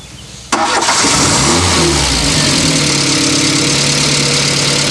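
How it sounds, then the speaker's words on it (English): A 4-cylinder car engine cranks and catches during a tune-up, then settles into a steady, loud idle with a brief early rev, close to the microphone and continuous. "All right, you just want the engine to idle."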